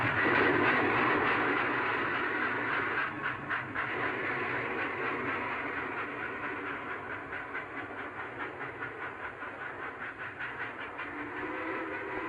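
A train rolls through a station with a steady rumble and a rhythmic clickety-clack of wheels that quickens and stays loud, no voices over it.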